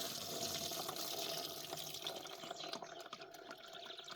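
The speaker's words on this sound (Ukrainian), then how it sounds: "Зараз залишилося його вилити в оприскувач, додати води." Dissolved fungicide solution is poured from a jar into a garden sprayer, a steady close splashing and trickling of liquid that thins out toward the end.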